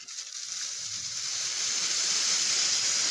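Homemade rocket fuel reacting with a steady, close hiss that builds slightly in strength and holds constant, with no voices over it.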